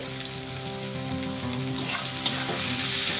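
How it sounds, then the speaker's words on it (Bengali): Onions and green chillies fry in a pan with a little turmeric and salt, giving a dense, continuous sizzle with soft stirring scrapes, close and fairly loud. "পেঁয়াজটাকে সুন্দর করে ভেজে নেব।"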